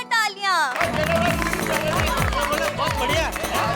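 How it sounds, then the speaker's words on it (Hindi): Loud crowd applause and cheering from a studio audience after a stage performance on a Hindi TV comedy show, starting right after a brief voice and filling the rest of the clip. "रोशन जी की परफॉर्मेंस के लिए जोरदार तालियां।"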